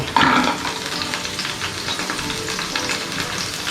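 Chili and onion frying in hot oil, a loud steady sizzle that jumps up sharply at the start as they hit the pan, then holds as a dense crackling hiss throughout.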